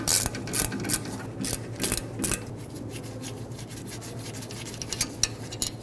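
A brake caliper bolt being backed out on a 2015-2020 Ford F-150, heard as quick ratcheting clicks and metallic rubbing, close and steady for several seconds, with no one talking.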